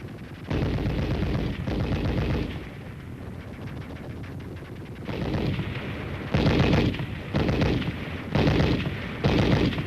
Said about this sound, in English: As the machine gun bullets spattered a murderous background to this baptism of fire, Chang kept on crawling